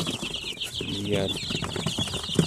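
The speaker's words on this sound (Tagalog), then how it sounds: "Yan, mga sisiw" Newly hatched chicks from incubated fertile eggs peep in a busy, overlapping chorus close by, with a brief flutter of wings.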